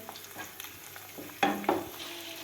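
Soft pan noises with a couple of louder clinks and scrapes near the end, as sautéed onions and two cracked eggs are stirred and sizzle quietly in a pan.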